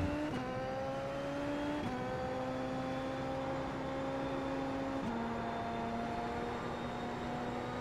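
A high-downforce race car in a racing sim holds full throttle, its engine whining steadily with a few abrupt pitch drops at gear changes, loud and continuous with no talk over it.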